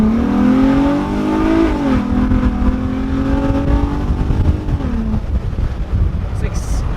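An Infiniti G35 with a budget aftermarket intake revs loudly and steadily, its engine tone rising and falling through several sweeps before easing off, while people talk over it.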